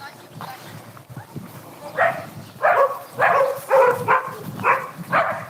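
Several city street dogs bark in a rapid series of loud, overlapping woofs, fairly near, with quieter rustling and whimpers in between.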